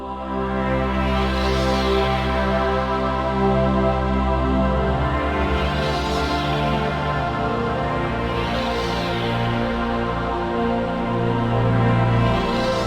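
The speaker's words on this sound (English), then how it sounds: "presets where I use some interesting features of the modwave native is, for instance, the Sea Creatures Choir." Korg modwave native wavetable synth playing the Sea Creatures Choir preset: a dense, sustained choir-like pad with slow sweeping shimmers recurring every few seconds, loud and continuous, no voices.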